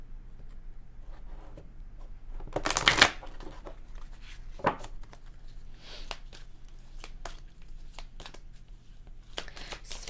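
A deck of Archangel Michael oracle cards is shuffled, with one loud riffling burst and then scattered soft card slaps and flicks that recur through otherwise quiet surroundings.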